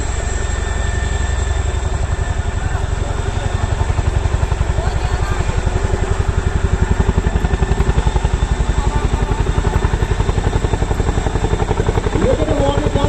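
A Chinook helicopter at an air show in Kashmir, its twin rotors giving a loud, steady, rapid thudding beat with engine whine that carries on without a break close by.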